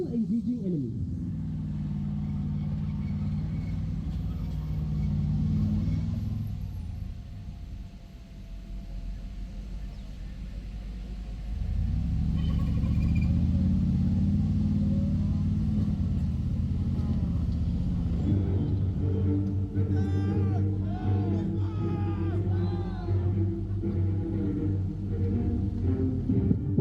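A Hunter armored fighting vehicle drives at a firepower demonstration at Sungei Gedong Camp, its heavy engine giving a loud continuous low rumble that dips briefly and then swells again, with a commentator talking over it.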